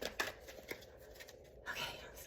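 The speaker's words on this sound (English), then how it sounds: "Now we're shuffling for present moment." Soft riffling and snapping of tarot cards being shuffled up close, in quick irregular bursts with brief pauses between them.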